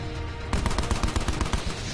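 Rapid bursts of automatic gunfire from the video game Call of Duty Black Ops 4, loud, close and densely repeated after a brief quieter lead-in, with no talk over it.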